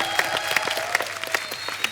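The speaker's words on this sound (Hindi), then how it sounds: "विष्णुवर्धन जी के लिए एक बार जोरदार ताली हो जाए।" A studio audience on a Hindi comedy TV talk show, the Kapil Sharma Show, breaks into steady, lively clapping with no talking.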